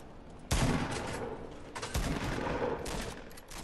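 Rapid gunfire crackles through a Fortnite match, dense bursts of shots starting abruptly and continuing in loud, overlapping volleys with a second surge midway.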